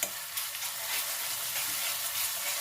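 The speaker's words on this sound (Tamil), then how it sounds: "இப்போ நம்ம இஞ்சி பூண்டு பேஸ்ட்டு போட்டோம். இதை நல்லா வதக்கிடலாம்." Ginger garlic paste sautéing in hot oil for prawn thokku gives a steady, close, dense sizzle with the soft scrape of stirring running through it and no talk.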